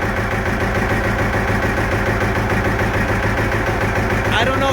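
A John Deere R tractor engine runs steadily after a cold start on a chilly day of about 35 degrees, a loud, continuous rhythmic two-cylinder-style chugging with no break, close up.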